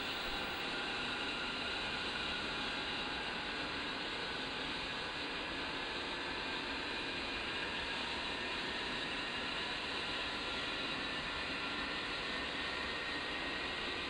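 Twin jet engines of an A-10C attack aircraft in the DCS World flight simulator run steadily after start-up, a continuous loud broadband roar with a high whine holding constant throughout, no voices.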